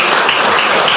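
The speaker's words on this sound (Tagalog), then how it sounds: "Malakas sa palakpak para kay Lord." A church congregation breaks into loud, dense applause, a steady wash of many hands clapping close by for a moment.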